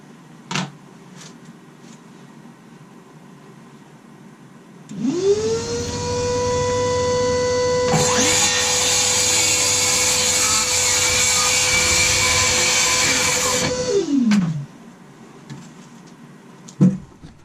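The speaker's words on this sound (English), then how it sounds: "Extractor fan as well." A workshop extractor fan switches on with a rising whine, then runs as a loud, steady hum with a brighter, higher-pitched roar for several seconds before spinning down.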